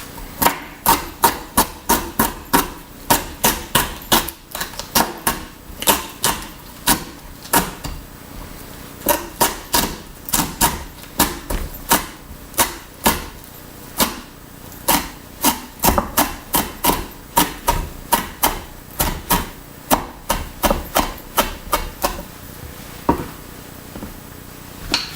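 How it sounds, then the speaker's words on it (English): Knife chopping fresh fennel, tops included, on a cutting board: steady, quick, close-up chops that keep a brisk rhythm for the whole stretch, with short pauses and no talking. "So I'm chopping up some fresh fennel here."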